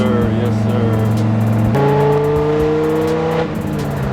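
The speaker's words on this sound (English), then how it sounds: "I love the Corsa exhaust." Dodge Viper GTS ACR engine revving hard through a Corsa exhaust, loud and close, with a strong deep note that climbs sharply in pitch midway, then drops back slightly near the end.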